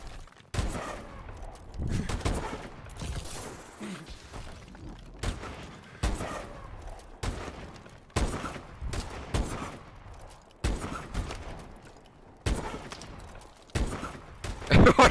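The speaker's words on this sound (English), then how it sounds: "We're just shooting in circles." Rapid bursts of gunfire from a first-person shooter video game, repeated volleys and single shots throughout, loud and close, with occasional brief voice underneath.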